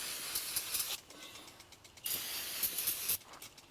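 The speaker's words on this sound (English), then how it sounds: "We'll take our new rotor and just spray it off." Short hissing bursts of aerosol brake cleaner sprayed onto a new brake rotor, three or four pulses with brief pauses between, close by and fairly loud.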